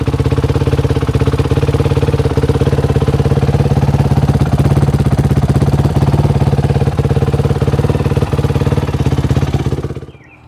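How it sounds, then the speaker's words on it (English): A Yamaha flat track motorcycle engine runs loud and steady in a rapid, throbbing idle, close by, then cuts off abruptly at the end. "a lot of people want to hear that Yamaha running"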